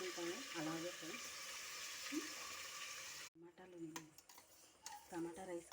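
Water pours steadily into a cooking pan while tomato rice is being made, a continuous rushing hiss that stops abruptly, followed by clinks of utensils and pan knocks.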